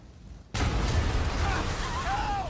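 A sudden loud blast from a bomb in the Spider-Man PS4 game, breaking in after a quiet start and leaving a sustained rumble, with fainter whistling tones near the end.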